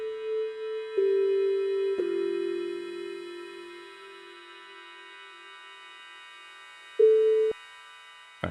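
Synth chords from an Ableton Live setup with the Atmobits D8 octave doubler's weight control raised, sustained tonal pads swelling and fading, with a brief louder chord burst near the end, no talking.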